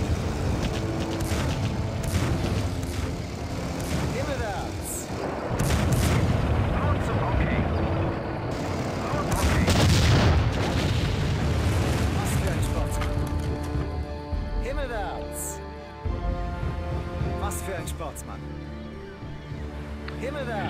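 Artillery fire in the strategy video game Empire Earth during a Battle of the Somme scenario, with repeated booms and explosions over a busy battle din and music while someone talks over it.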